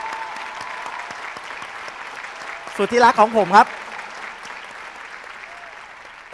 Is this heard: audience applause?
yes